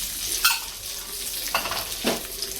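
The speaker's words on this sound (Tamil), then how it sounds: "லைட்டாக புரட்டிடுவோம்." Cashews fry in a pan for pineapple kesari, giving a steady close sizzle broken by a few scraping stirs of a spoon against the metal.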